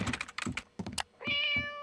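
A cartoon cat meows in a short burst of cartoon cat footage from Regular Show, the cries following a run of quick tapping knocks, fairly close and clear.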